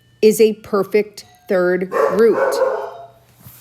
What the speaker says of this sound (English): Sorry about the doorbell barking there and the dog barking.